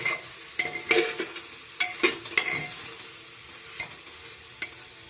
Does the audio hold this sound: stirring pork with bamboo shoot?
yes